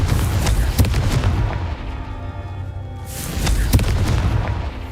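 A Confringo spell explodes in Hogwarts Legacy, a deep booming blast with a rumbling tail, followed a few seconds later by a second loud boom over steady game background noise.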